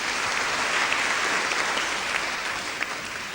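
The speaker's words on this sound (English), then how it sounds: "she comes onto the stage of the Freemasons Hall to the warm applause of this festival audience" Warm applause from a festival audience in the Freemasons Hall, Edinburgh, for a singing masterclass: dense steady clapping from a full hall, continuous and moderately loud throughout.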